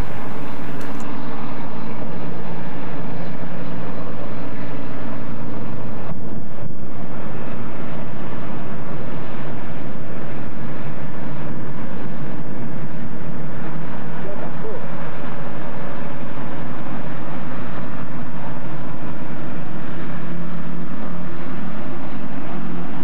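Commercial passenger hovercraft on the Southsea to Ryde service departing and arriving at Ryde, a loud, continuous engine roar with rushing air that swells and shifts steadily, with no quiet gaps.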